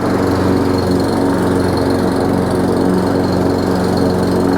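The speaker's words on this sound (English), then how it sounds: "I'm gonna mow one pass across my lawn." A Toro Recycler Max lawn mower cuts one pass across a grass lawn, its engine droning steadily and loudly up close for the whole stretch with no one talking.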